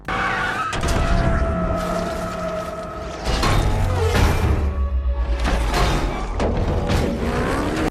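Lamborghini Murcielago in a movie car crash scene, with a loud revving engine and squealing, skidding tires throughout, the engine note rising and shifting over about eight seconds.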